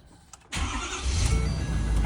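A car engine cranks briefly and then catches, settling into a loud, steady run, the first start after filling a newly fitted fuel tank.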